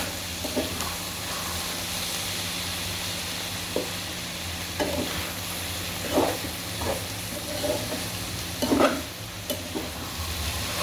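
Bitter gourd taken from the fridge fries in a pan while being stirred: a steady sizzling hiss runs throughout, broken by scattered scraping strokes from the spatula, with one louder stir near the end.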